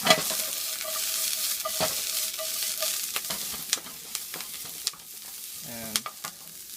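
Vegetables frying in oil while being pushed around the pan, a steady sizzle punctuated by repeated scrapes and taps of a utensil, with a brief bubbling burst near the end.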